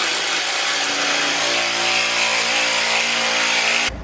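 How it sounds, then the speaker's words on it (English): A power drill runs steadily at full loudness for about four seconds, driving a screw into a wall to hang weight plates, then cuts off abruptly. No talking. "the screw will follow however you drill"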